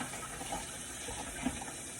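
Tap water running steadily while juicer parts are rinsed, a continuous close hiss and splash with no pauses.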